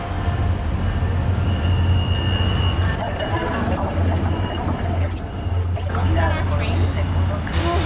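A SunRail commuter train pulls away from the station, a steady low rumble with rolling rail noise that swells and fades, while people chat nearby underneath.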